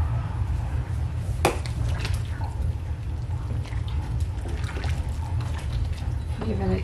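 Turkey soup stirred in a pot makes a continuous wet sloshing and swirling of liquid, with a spoon knocking against the side now and then.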